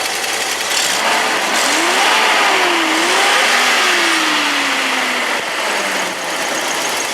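A Datsun 280Z's L28 engine revving and sputtering, loud and close, with the pitch rising and falling unevenly over a rough, continuous roar.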